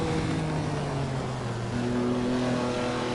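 A Ferrari engine in the Assetto Corsa racing game hums continuously, its pitch shifting down and then back up as gears change, sitting at a moderate steady level with no talk over it.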